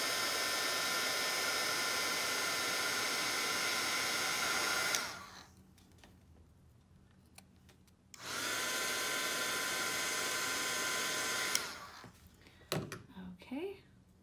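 A heat embossing tool blows hot air to heat set a card, a loud steady whirring rush that runs for about five seconds, stops, then runs again for several seconds before cutting off, with light handling noises in between.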